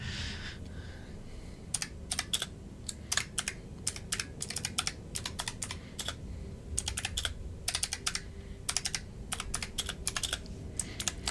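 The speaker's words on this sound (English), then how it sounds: "the clicky noises you can hear is my keyboard" Close, quiet clicky computer keyboard typing in bursts of crisp key clicks separated by brief pauses over about eleven seconds, with no voices, in a home setting.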